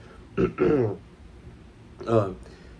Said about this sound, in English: I don't know why I'm coughing a lot